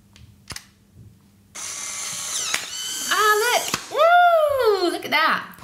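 A Polaroid instant camera takes a selfie: a sharp shutter click comes first, then a whirring motor ejects the print, and voices talk over the end of the whir.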